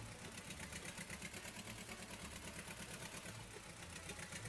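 Slow tractor engine in Farming Simulator 22 idling with a steady low rumble and a fast regular chugging pulse, continuous and even throughout, no voices.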